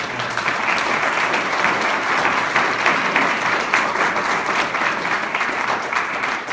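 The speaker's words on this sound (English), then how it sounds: "Can we have a round of applause for the staff who's worked very hard?" An audience at a Newcastle town hall meeting claps for the staff, a dense, steady round of applause heard close and sustained throughout without a break.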